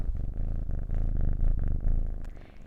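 A cat purring close up, a rhythmic low rumble pulsing in steady cycles with no other sounds around it.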